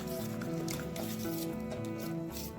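Semolina, sour yogurt and water are stirred in a bowl, giving soft continuous squishing and wet patting sounds, close and steady.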